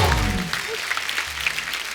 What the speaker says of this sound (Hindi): एक बार जोरदार तालियां हो जाए जवानी जाने मन की पूरी स्टार कास्ट के लिए